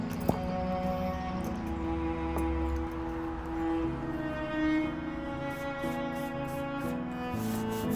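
Fine steel wool rubbing Gilboy's Antique Gold Wax into an antique wooden buffet, a quiet continuous scratchy swishing in strokes, faint beneath steady music.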